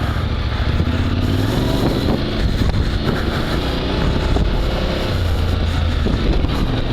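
Yamaha Tenere 700 motorcycle on a test lap over dirt, its engine droning steadily and loudly close up, buried in heavy wind buffeting against the microphone throughout, with no talking.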